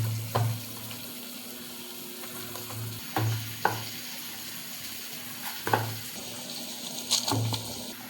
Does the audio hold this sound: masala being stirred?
yes